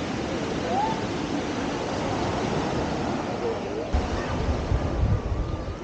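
Steady sea surf rolls along the Algarve coast of Portugal, a broad continuous wash of waves with wind buffeting the microphone and faint surges toward the end.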